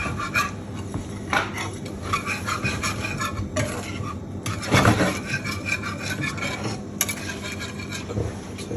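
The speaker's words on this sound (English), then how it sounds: "take it off the heat slightly, chuck in your berries, just stir it on" Berries being stirred into a pan of compote just pulled off the heat, giving continuous wet scraping and rubbing with light clinks of a utensil against the pan, close and fairly steady.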